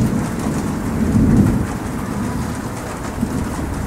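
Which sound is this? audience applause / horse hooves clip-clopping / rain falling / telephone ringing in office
rain falling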